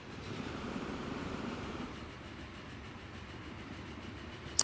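A train rolls steadily through a Transport Fever 2 rail scene, a continuous low rumble with faint rail clatter that eases slightly midway, ending on a brief sharp click.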